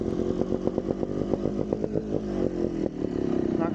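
Trials motorcycle engine at a trials event, revving in rapid repeated blips with a steady buzzy drone, close and loud, building toward a clutch pop.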